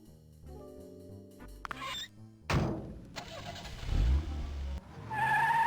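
A car from the Sam & Max Hit the Road video game starts up and drives off, with an engine revving and whooshing in short bursts alongside game music, followed by a rising, pitched motor tone.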